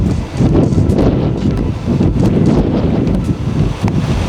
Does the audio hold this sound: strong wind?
yes